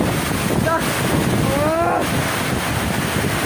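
Strong typhoon wind at a rainy campsite roars continuously across the microphone, a broad steady rush, with faint brief tonal squeals and muffled voices mixed in.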